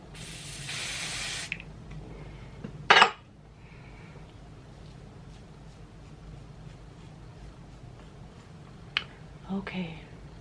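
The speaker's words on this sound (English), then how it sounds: "I'm gonna spray somewhere right there." A short hiss from a spray bottle spraying onto a synthetic lace front wig, followed later by a few faint light clicks and handling sounds in a quiet room.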